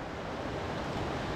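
Flowing water of the Subung river near a camping and fishing spot in Karbung, a steady broadband rush with no distinct events, fairly soft and continuous.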